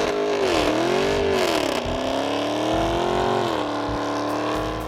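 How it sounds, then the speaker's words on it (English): Supercharged Dodge with a Corsa exhaust revs loudly and close, its engine note sweeping up and down in repeated surges, with a whine riding over the deep exhaust rumble throughout. "The balance between the supercharger whine and the Corsa exhaust hits like none other."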